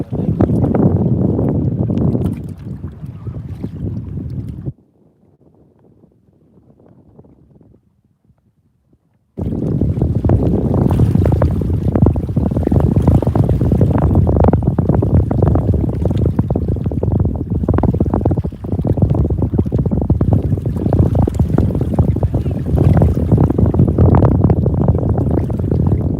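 Gusty wind buffets the microphone on Mille Lacs Lake while fishing from a boat, a loud continuous roar that drops away for a few seconds near the start and then returns steadily.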